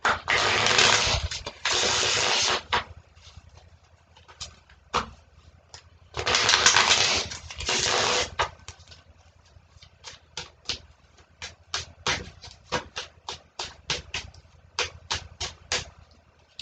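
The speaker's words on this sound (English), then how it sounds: "So I'm going to shuffle that" A tarot card deck is riffled in two long bursts, followed by a series of quick, crisp card snaps and flicks, close and alone.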